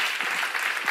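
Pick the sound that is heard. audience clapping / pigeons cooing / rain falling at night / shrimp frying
audience clapping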